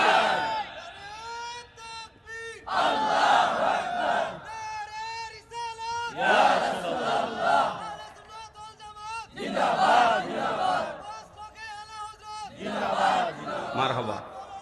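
A crowd at a religious gathering chants the Nara-e-Risalat slogan together, loud and close, in repeated bursts of massed voices separated by brief pauses.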